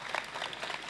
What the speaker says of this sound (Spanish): Un aplauso para Asier.